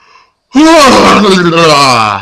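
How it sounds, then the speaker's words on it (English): A person yawning, a long voiced drawn-out exhale that slides downward in pitch, close and loud, following a brief faint sound. "I have to yawn again."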